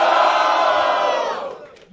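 A crowd at a rap battle semifinal roars, cheering and shouting loudly and continuously before fading toward the end.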